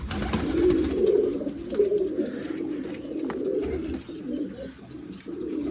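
Low, throaty cooing from several pigeons close by, continuous overlapping coos rising and falling without speech.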